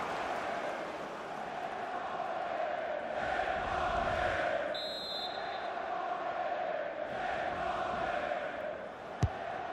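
Stadium crowd in FIFA 22 during a Bundesliga match, Arminia Bielefeld at BVB, a steady far-off roar that swells and ebbs, with a brief whistle-like tone and a sharp click near the end.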